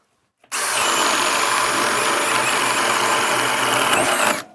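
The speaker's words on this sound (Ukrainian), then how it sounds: "А тепер краш-тест найдорожчого шуруповерта. Це CD200BC Ultra." A Dnipro-M CD200BC Ultra cordless drill bores a 22 mm hole, starting abruptly after a short silence and holding a loud, steady high-pitched whine for about four seconds before cutting off.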